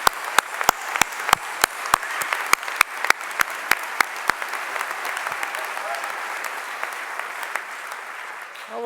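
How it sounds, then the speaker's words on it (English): An audience applauds graduates at a doctoral hooding ceremony, a full crowd clapping steadily while one nearby person's sharp, regular claps stand out in the first half before the applause settles and continues. "I know you want to clap for them again, so I'm going to give you an opportunity."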